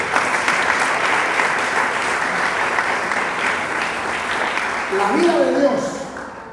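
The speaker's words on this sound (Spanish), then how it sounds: "Dele palmas al Señor." Church congregation clapping together in a dense, loud, sustained burst, with a voice speaking over it toward the end before the sound tapers off.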